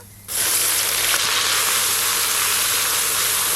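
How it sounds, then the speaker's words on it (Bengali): Onion paste hits hot mustard oil already crackling with cumin and dried chilli, bursting into a sudden loud, bright sizzle that holds steady and hissing without a pause. "এবার পেঁয়াজ বাটা দিয়ে দেব"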